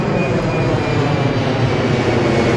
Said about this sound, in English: you'll see a plane going overhead in a minute